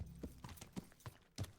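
Horse hooves clip-clopping in the medieval video game Kingdom Come Deliverance, a steady walking rhythm of soft, close thuds, alone without talk.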